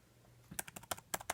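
Quick bursts of clicky keystrokes on an Acer Aspire One laptop keyboard, about a dozen sharp taps in an uneven rhythm after a brief quiet start, close and fairly soft.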